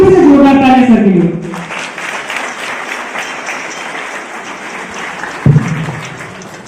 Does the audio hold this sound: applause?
yes